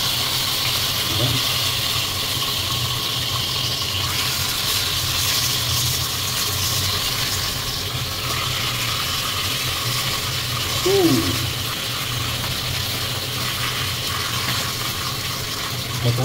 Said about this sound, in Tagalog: I-prito mo natin saglit.